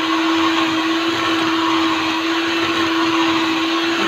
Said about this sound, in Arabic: كده ضربنا البيض والسكر والزيت والفانيليا،